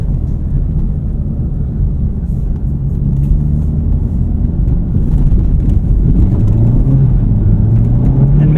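A Honda Civic Type R FL5 drives on winter roads, with a loud, steady low engine and road rumble from inside the cabin and the engine note gently rising toward the end.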